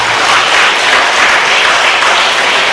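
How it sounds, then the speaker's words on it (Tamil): An audience at a talk applauds, a loud, steady wash of clapping from many hands, close and sustained for a few seconds with no voices over it. "நான் பரவாயில்லையே, கைத்தட்டுறீங்களே."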